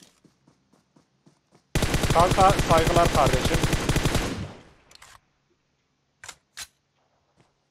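A burst of rapid automatic gunfire in PUBG Mobile on the Sanhok map, loud and close for a couple of seconds and then tailing off, with scattered clicks and thuds after it and someone briefly speaking.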